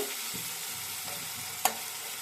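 Food sizzles and fries in oil in a pan: a steady crackling hiss with one sharp clink of a utensil partway through. No voices.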